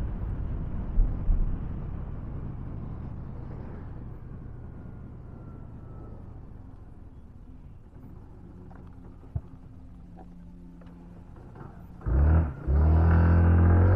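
A 2023 TVS Jupiter 125 BS6 scooter ridden through a tight turning-radius test, its engine a steady low rumble that fades slightly mid-turn, then swells into a louder revving drone near the end.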